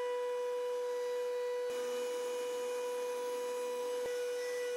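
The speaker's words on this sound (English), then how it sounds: "I'm going to do some testing with the router table and the fence in operation." A router spins at full speed in a DIY router table of a portable workshop, giving a loud, steady, high-pitched whine that holds throughout, with brief tonal shifts as the load changes.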